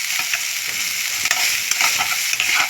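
Eggplant frying in oil hisses in a continuous bright sizzle, with soft scrapes as it is stirred around the pan, close and fairly loud with no voices.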